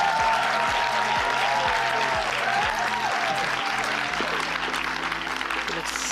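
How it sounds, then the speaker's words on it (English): A studio audience applauds as a female guest comes on stage at a talk show, a loud continuous wash of clapping with music underneath and scattered cheers. "Give her a round of applause as she comes."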